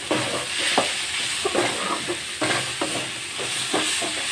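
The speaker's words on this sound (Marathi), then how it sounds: "अजून 1-2 मिनिटं चांगले परतून घेऊ।" Hakka noodles stir-fried in a hot pan with spring onion, a steady loud sizzle cut by regular scraping strokes of the spatula, no voices.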